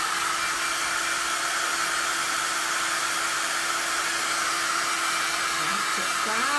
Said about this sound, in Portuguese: Secador. Secador.